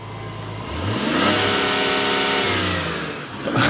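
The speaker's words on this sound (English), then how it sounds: "we're gonna rev it and let you listen to it." Twin-turbo Hurricane inline-six in a 2024 Dodge Charger, heard from the front, climbs through a few loud revs then settles back toward idle at close range, with no voices.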